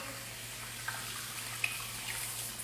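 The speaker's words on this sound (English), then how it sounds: "I'm gonna rinse out this thing." Tap water runs into a sink to rinse a face razor, a soft, steady stream with a couple of small clinks and splashes, heard close and quiet.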